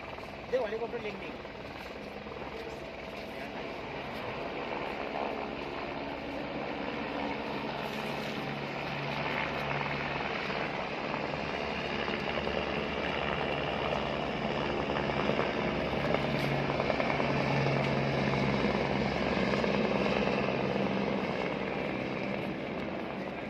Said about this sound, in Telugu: హెలికాప్టర్ సర్వీస్ అండి.